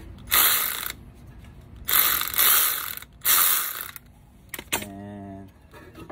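A ratchet with a size 14 socket works a front brake caliper bolt on a 2001-2006 Honda Civic. Three close, sharp bursts of rapid clicking are separated by quiet gaps, and a brief voiced tone follows near the end.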